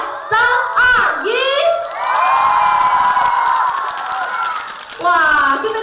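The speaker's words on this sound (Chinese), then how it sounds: "让柯颖听一下我们现场所有粉丝们的欢呼声和尖叫声" Fans at Li Keying's drum meet-and-greet scream and cheer loudly in bursts, with shrill high-pitched shrieks rising into a sustained roar, then a fresh wave of screams at the end.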